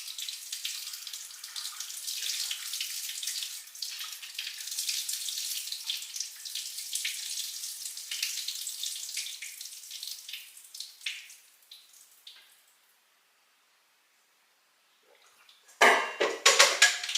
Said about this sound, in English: I'm going to take my rhubarb over to the sink and drain the water off